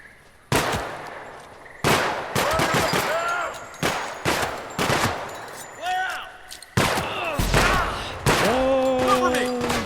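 Gunfire in a video game shooter cracks out in sharp, loud shots, some single and some in quick clusters, with ringing tails over ambient battle noise and brief voice sounds.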